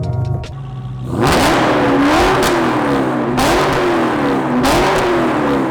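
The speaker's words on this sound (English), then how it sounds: "there was one modification that did make it a bit louder than your stock Hellcat" A modified 1000hp Dodge Challenger Hellcat roars to life with a loud, close engine rev, then holds a throaty rumble with its pitch wavering up and down through repeated throttle blips.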